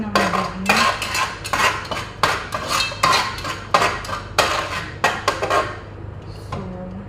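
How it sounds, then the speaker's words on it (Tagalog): Fish curry stirred in a pot, with a utensil clanking and scraping against the metal in repeated rhythmic strokes, close and fairly loud, without talk. "Haluin ng mabuti."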